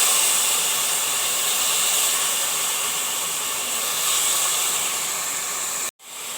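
Brinjal pieces frying with onions in a pan for an Andhra-style vegetarian curry, a steady broadband hiss of sizzling that holds evenly for about six seconds before cutting off abruptly near the end.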